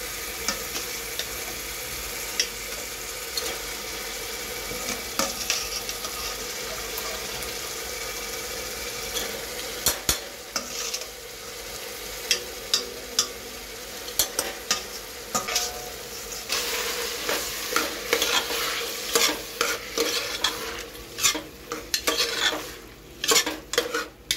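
Vegetables fry in ghee for pulao, a steady close sizzle broken by a run of clinking, scraping stirs that grow busier and louder toward the end.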